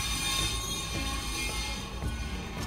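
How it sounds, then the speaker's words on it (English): A train rolls past along a street, a loud rumble of wheels on rails with high metallic squealing that persists throughout, close by and with no talking. "there's a train passing on the street right now"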